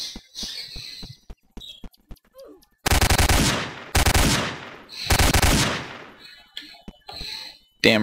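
Gunfire in the Roblox game Apocalypse, with sparse single shots early on, then three loud sustained automatic bursts, each about a second long, followed by scattered shots and faint background sounds.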